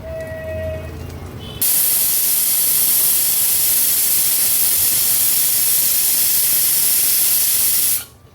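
Pressure cooker on a medium gas flame, cooking Agri-Koli style chicken, releases a loud, steady rush of hissing steam that lasts about six seconds and then cuts off, after a quieter stretch with a short high whistle tone.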